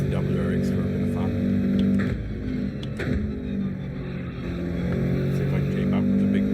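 Subaru WRX engine in a racing video game, a steady drone with harmonic layers throughout, dipping briefly partway and then swelling again, with a voice talking over it.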